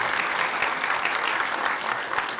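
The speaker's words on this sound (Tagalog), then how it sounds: "Palakpak naman dyan po" A crowd at a Filipino rap battle applauding, a thick and continuous roar of clapping heard at a moderate distance and holding steady throughout, with little talk coming through.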